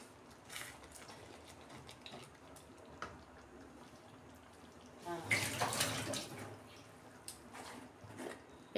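Cooked chana dal poured from a pot in a home kitchen, a soft wet gushing burst that swells midway and fades, faint and fairly close, with no talk over it.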